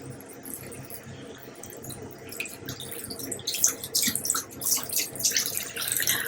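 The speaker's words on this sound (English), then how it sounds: "going back and forth with the hot water and the cold water on the sponge" Tap water runs onto a sponge while switching between separate hot and cold taps, a soft trickling and splashing that grows louder and more spattery in the second half, close by, with no talking.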